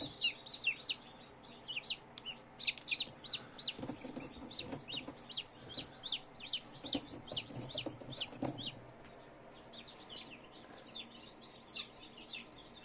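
Many tiny high-pitched cheeps from newly hatched chicks in an incubator, rapid and overlapping, with soft rustling and shuffling underneath; the peeping thins out toward the end.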